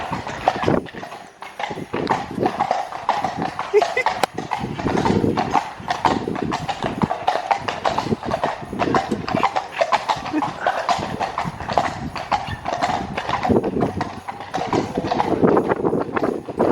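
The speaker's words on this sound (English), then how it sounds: "we are on a horse-drawn carriage going around our area" Hooves clip-clop steadily and without a break as horses pull a carriage through a residential area, heard from on board. The rhythm is close and continuous, with faint voices and street noise underneath.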